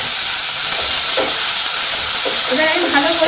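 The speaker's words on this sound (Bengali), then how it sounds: "এবার আমি ভালো করে ভাজতে থাকি" Chopped tomatoes and green chilli fry in a pan for a Bengali-style pangas fish curry, giving a loud, steady sizzle and hiss with occasional stirring scrapes, and a voice speaks briefly over it.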